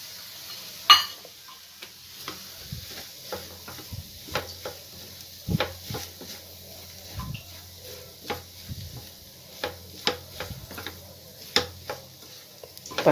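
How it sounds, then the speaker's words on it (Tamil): Potato, scrambled egg and chopped coriander are stirred in a pan, a spoon scraping and tapping in irregular soft clicks and knocks over a faint sizzle. "இது கூடவே நறுக்கின மல்லித்தலை சேர்த்து கிளறிடுவோம்."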